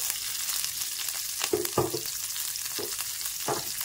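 Finely chopped green chillies fry in hot oil for a yogurt-chilli side dish, a steady broadband sizzle running throughout with a few brief stirring scrapes layered on top, close and with no talking.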